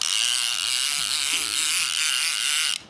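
A Champion Arctica fishing reel's drag clicks rapidly and continuously in a loud, buzzing ratchet that runs for a few seconds, then cuts off abruptly.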